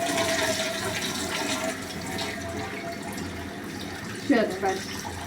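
Rice being rinsed under running tap water, with a continuous rush of water that fades slightly and then two brief splashes near the end. No speech.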